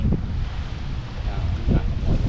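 Strong wind blowing across the microphone outdoors near a bridge while crane work goes on, a loud continuous roaring rumble with gusty swells, and people talk faintly underneath.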